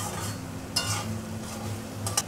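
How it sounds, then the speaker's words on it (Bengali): Taro stolons are stirred with mustard paste in a pan, with soft scraping under a low sizzle and two sharp clinks of a spoon against the pan. "সর্ষে বাটাটা দিয়ে একটু নেড়ে চেড়ে, গ্যাসটা লো করে দেবে"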